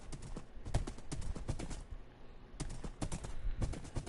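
Horse hooves clip-clopping in Minecraft on PS4, quick irregular clusters of light taps in two bursts separated by a short pause, fairly quiet with no talk.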